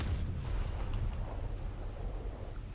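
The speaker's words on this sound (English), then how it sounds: "Let's get a shot off just to make him know that we know where he is." A deep, rumbling boom from a ship's deck gun firing in the naval battle game War Thunder rolls on as a long, low roar, with no talk over it.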